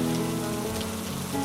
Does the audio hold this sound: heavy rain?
yes